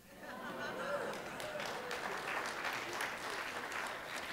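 Audience at a Burning Bowl and White Stone church ceremony breaks into steady, full applause after a story, a dense wash of many hands clapping that holds evenly throughout.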